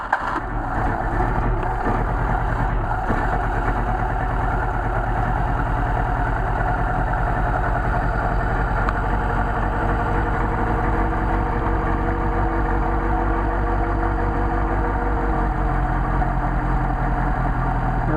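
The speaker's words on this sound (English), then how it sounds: "the engine starts to warm up and is going to operate and idle properly" A Mercedes 190SL engine fitted with Solex carburetors idles on choke, a steady, continuous rumble held close and loud throughout, with a faint ticking texture and no voices.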